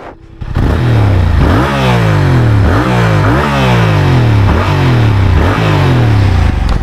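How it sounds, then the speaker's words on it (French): Yamaha R7 motorcycle exhaust barks through repeated sharp revs, each rising and falling quickly, loud and close after a short quiet start. "Je sais pas si vous allez l'entendre, mais voilà le petit pot à cra."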